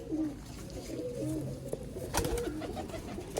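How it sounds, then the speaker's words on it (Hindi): Soft, low coos from a Chinese breed pigeon at a bird market, a few rounded calls close by over a murmur of background noise. "ये कबूतर है जी"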